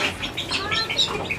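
Chickens in a backyard bird setup give short clucks and chirpy calls, several quick bursts close by over a quiet background.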